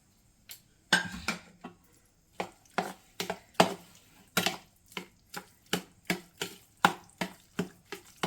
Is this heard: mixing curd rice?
yes